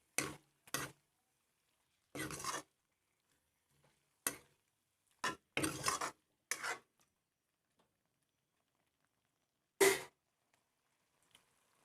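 Spoon stirring food in a pan, a series of short scraping and rubbing strokes in irregular bursts, close and dry, separated by quiet gaps.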